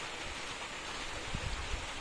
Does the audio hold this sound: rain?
yes